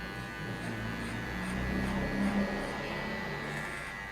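Hair clipper fitted with a number 2 guard cutting a men's fade, a steady close electric buzz that swells slightly mid-way as it works through the hair.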